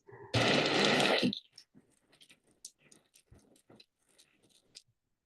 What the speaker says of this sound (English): It's echolocation clicks that they use to navigate underwater.